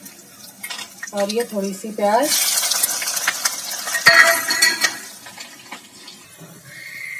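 Cumin, green chilli, cardamom, cloves and bay leaf dropped into hot oil in a pan for chicken biryani: a sudden crackling sizzle that keeps hissing steadily, with a voice talking over it.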